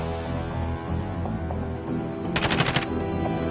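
A short rapid burst of automatic gunfire in a video game, aimed at a player inside a building, cutting in sharply over a steady rumbling game background near the end.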